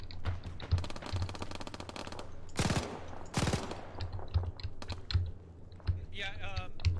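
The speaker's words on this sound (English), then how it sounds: "our machine gunner is shooting at it with the red tracer at this time" A machine gun firing red tracers in the ArmA military game, rapid bursts of sharp clattering shots, two dense loud volleys standing out among scattered pops, with a voice talking briefly near the end.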